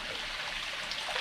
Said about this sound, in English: It's got lots of pumps and fountains going on